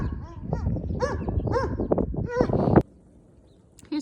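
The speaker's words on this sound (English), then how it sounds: "there are always hounds barking on the farm, just perpetually" Several hounds on a farm bark and yelp in quick, overlapping bursts at moderate distance, then the noise cuts off abruptly into near silence before a brief final sound.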